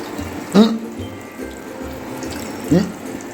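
Water runs from a tap as a steady, moderate background flow, broken by two brief vocal outbursts and a few soft low thumps.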